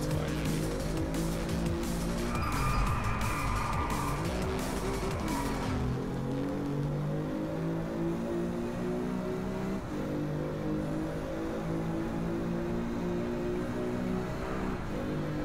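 A car engine hums steadily while driving in the video game Driveclub, its pitch rising and falling through gear shifts, with tires squealing briefly early on.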